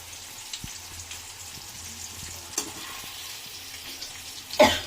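Food sautéing lightly in a pan gives a soft, faint sizzle with scattered small crackles and a few light utensil knocks, ending in a brief louder clatter, no voices.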